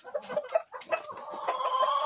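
Pushkin breed hens cluck in a farmyard coop while eating, a close flurry of short, overlapping clucks and murmurs that grows busier toward the end.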